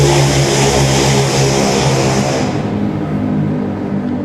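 A motorcycle engine roars loudly and close by, a steady broadband mechanical drone that holds at high level before the upper hiss drops away while the low engine note continues.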